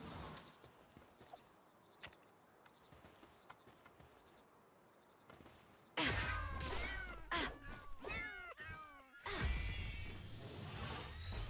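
Little neon cat creatures in the video game Palworld, heard after a quiet stretch of faint ticking, as a burst of bouncy, overlapping meows and chirps, loud and close, briefly broken then resuming to the end.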